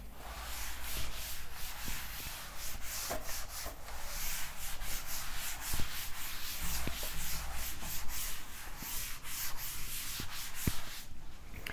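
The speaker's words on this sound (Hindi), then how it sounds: "मैं इसको रब कर रहा हूं" Steady broadband rubbing of a duster erasing writing from a classroom board, continuous scraping strokes for about twelve seconds, fairly loud and close, with no voices over it.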